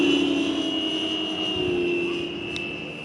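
Steady engine whine from a small aircraft, fairly loud and sustained with a constant high tone, fading slightly toward the end. No talking.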